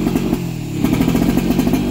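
An Alfa racing motorcycle engine revving up close, a loud, raspy two-stroke-style buzz that pulses and rises in quick repeated blips, with no talking over it.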